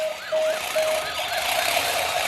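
A toy ambulance wails with a rapid electronic up-and-down siren, loud and close, alone without talk.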